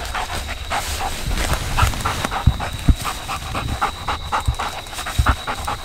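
A hunting dog pants steadily after tracking down a deer in Mississippi, with quick rhythmic breaths up close, a few louder huffs, and a faint whimper or two over outdoor background noise.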